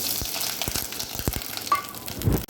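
Coconut, sugar, cashews and raisins fry in a hot pan as they are stirred, giving a steady sizzle broken by several scraping strokes and a brief clatter near the end, close and alone.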